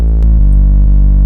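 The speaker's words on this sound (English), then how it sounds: "And with processing it sounds more like an 808" Sub bass run through a British clean preset with Camel Crusher and Saturn 2 saturation so it sounds like an 808, a full, loud, distorted low tone with a couple of retriggered notes, played alone.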